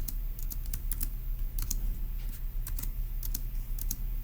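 Notes are typed on a computer keyboard in quick, irregular bursts of crisp key clicks close by, with short pauses between runs of keystrokes.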